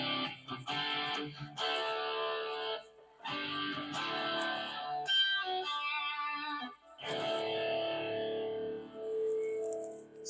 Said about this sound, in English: I'm running now through this overdrive, through this preamp pedal with delay on and reverb on, and then this cabinet simulator